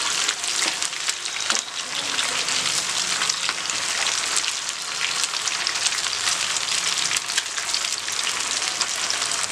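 Chicken tikka pieces fry steadily in hot oil, giving a continuous loud, dense sizzle and crackle with occasional sharper pops throughout, no voices present.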